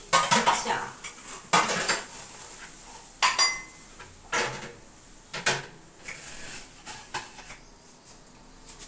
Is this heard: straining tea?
yes